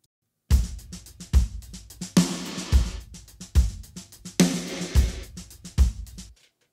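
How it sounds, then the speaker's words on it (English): A drum pattern of punchy kicks and snares, each hit followed by a gritty, distorted burst of reverb that cuts off abruptly. "So I'm distorting the reverb signal here."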